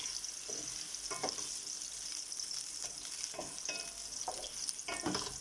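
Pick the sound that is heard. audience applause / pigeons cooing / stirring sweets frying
stirring sweets frying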